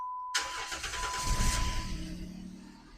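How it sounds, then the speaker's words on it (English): A 2007–2011 Jeep Wrangler JK engine cranks and fires up after an oil change, a sudden loud start that settles into a rough idle fading slightly over a few seconds, heard close with no talk. "So now we will start the engine."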